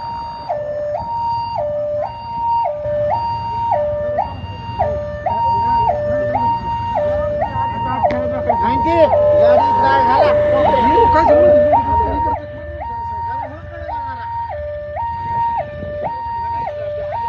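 An ambulance siren wails in a steady two-tone cycle throughout, loud and close, at a road accident near Shendge Vasti outside Shrigonda town; voices and crowd commotion swell beneath it midway.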